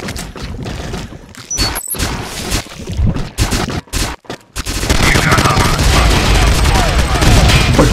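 Gunfire in the video game Natural Selection starts as sporadic shots and thumps broken by short gaps, then swells into loud, sustained rapid fire, with talking mixed in.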